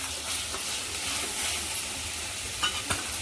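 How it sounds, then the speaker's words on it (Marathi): Masala sautés in a pan with a steady hissing sizzle and a few sharp scrapes of a spoon stirring it, close up with no talking. "आता हा मसाला छान परतला आहे"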